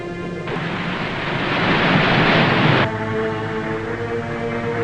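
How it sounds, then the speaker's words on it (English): Waves washing against a ship's hull, picked up on sonar: a broad rushing surge that swells for a couple of seconds over a steady low hum, then drops back. "I think I can pick up the waves against his hull."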